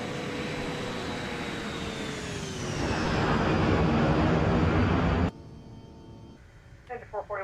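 Boeing 757 jet engines roar steadily, swelling louder as the thrust reversers engage, then drop abruptly to a lower hum, with faint radio chatter near the end.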